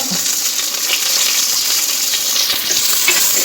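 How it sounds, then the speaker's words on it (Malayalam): Ginger, garlic and curry leaves fry in hot oil in a pan, giving a steady, close, dense sizzle with faint scraping from stirring, and no voices. "അത്യാവശ്യം ഇഞ്ചി വെളുത്തുള്ളി ഇട്ട് കൊടുത്തു അത് ജസ്റ്റ് ഒന്ന് വളക്കി കൊടുത്തു ഇനി ചേട്ടൻ കറിവേപ്പില ഇട്ട് കൊടുത്തു"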